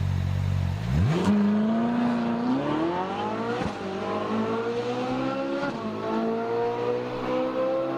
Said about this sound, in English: Here's a flyby, some outside videos so you can hear it driving.